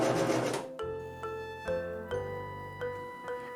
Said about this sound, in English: I am using my newer Singer sewing machine to do this portion because it has a back stitch.